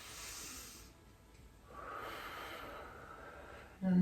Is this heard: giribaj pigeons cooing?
no